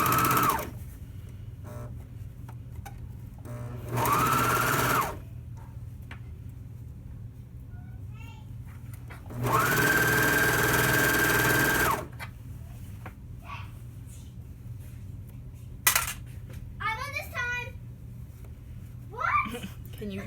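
A sewing machine stitches the seams of a romper in two short bursts of rapid mechanical whirring, with small children chattering and babbling faintly in the background.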